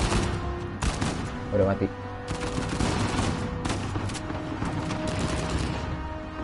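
Rapid gunfire crackles throughout a firefight in the action video game Uncharted 4, with bursts and single shots over a constant battle din, while someone talks over the shooting.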